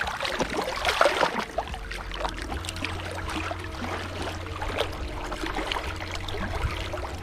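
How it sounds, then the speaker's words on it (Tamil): Wind-driven water in the Poigai Dam reservoir near Aralvaimozhi, Kanyakumari, laps and splashes like small sea waves, a soft, uneven sloshing with a faint low rumble of wind beneath. "இந்த தண்ணியை பார்த்திங்கன்னா கடல் அலை மாதிரி சலம்பிக்கிட்டு இருக்குது"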